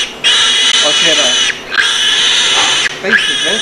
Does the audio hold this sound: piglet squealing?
yes